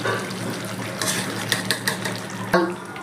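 Hot water is poured into a pot of vegetarian potato and pointed gourd curry, a steady splashing pour with a few clinks of utensils against the pot, close and fairly loud.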